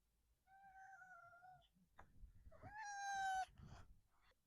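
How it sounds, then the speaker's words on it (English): A cat meows indoors, one drawn-out meow followed after a short pause by a louder, longer and more insistent one, close to the microphone, with faint rustling between. "cat."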